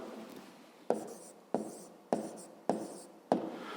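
Pen writing on paper during a fifth-grade math exercise, sounding as a soft continuous scratch broken by five sharp taps or strokes at roughly even intervals, close and quiet with no talking.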